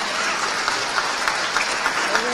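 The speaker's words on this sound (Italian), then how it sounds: "E mi piace che questa serata è cominciata con un applauso al grande Marchesi e termina con un applauso alla giovane Marchesi." An audience applauds at the Città di Senigallia award ceremony honoring Gualtiero Marchesi, with dense, steady clapping filling the room throughout and a few sharper individual claps rising out of the mass.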